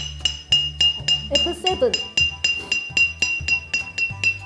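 Glass bottles partly filled with water and tuned to musical notes are struck one after another in a steady rhythm, each giving a bright ringing clink with a sustained pitch, close and clear, with brief talk in between.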